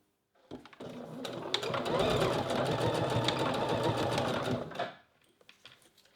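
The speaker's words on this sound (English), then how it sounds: "secure this in place with a straight stitch just again across the width of the elastic" A sewing machine runs a straight stitch across the width of elastic, a rapid even whirring chatter that starts abruptly, holds steady for about four seconds, then winds down and stops, close and clear with no talk over it.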